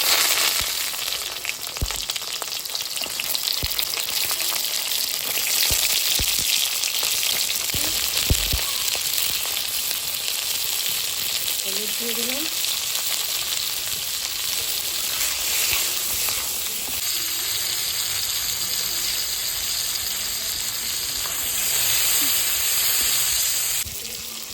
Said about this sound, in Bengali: বড়া ভাজার তেলে আমি পটলগুলো ভেজে নিচ্ছি